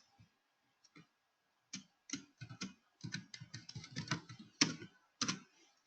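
Someone types a folder name on a computer keyboard, a close, quiet run of quick clicking keystrokes in irregular bursts, sparse at first and then denser.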